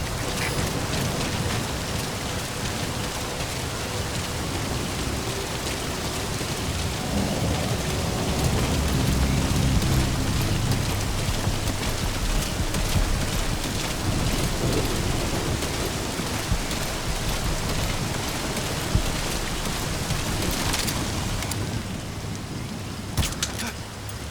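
Rain in Metal Gear Solid V: The Phantom Pain falls in a dense, continuous hiss with a low, rolling rumble of thunder beneath it, loud and unbroken throughout.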